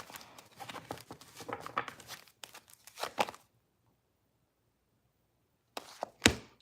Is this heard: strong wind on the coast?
no